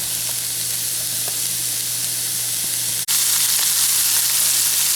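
Sausage, bacon and onion fry in a pan with a steady, loud sizzle and hiss, one brief sharp clink partway through, and no talking.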